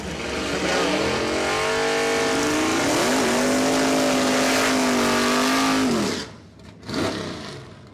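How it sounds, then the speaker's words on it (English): A Camaro and a Mustang drag racing at Saskatchewan International Raceway, loud roaring engines climbing through gear changes as the cars pass, then fading quickly to quiet with a brief final burst. "we've got a drag race on our hands, folks. Camaro versus Mustang."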